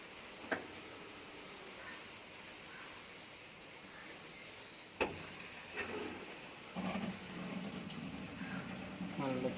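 A fully automatic washing machine draws in water, making a soft, steady rushing hiss with a few sharp clicks. Later it grows a little louder, and a voice talks over it.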